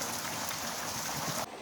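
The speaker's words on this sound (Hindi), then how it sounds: "तब से लगातार बारिश है और अभी भी बारिश चली रही है।" Heavy monsoon rain pours down in a village, a steady dense hiss of downpour that runs unbroken through the short moment.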